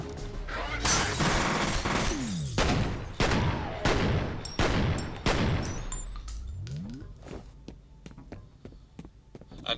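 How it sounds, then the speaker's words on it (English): Dual pistols firing in the shooter game F.E.A.R., rapid booming shots in dense bursts with slowed, echoing reports and tinkling shell casings, loud and without talk. "So here's the dual pistols in action"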